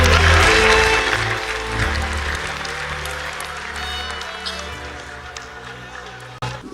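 A church congregation claps together in a loud, dense burst of applause that fades gradually over several seconds, with voices mixed in and a brief cut near the end.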